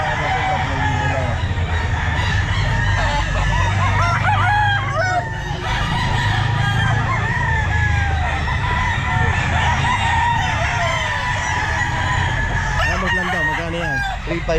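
Roosters crow repeatedly at a busy outdoor pet market, with loud, close, drawn-out calls and clucking over constant crowd noise and people talking in the background.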